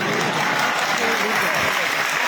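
Audience applause at a public talk, dense and loud clapping sustained evenly throughout, close and continuous with no pauses.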